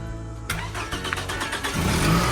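A Chevy II drag car with a low-charging alternator cranks briefly and then fires, catching into a loud, rough running engine that rises in revs, close up with no talk.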